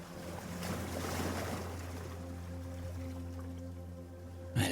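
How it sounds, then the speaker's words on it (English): Water laps gently at Dalkey Harbour as a soft, continuous wash over a steady low hum, fairly close and calm, with a brief louder knock right at the end. "I listen to the water."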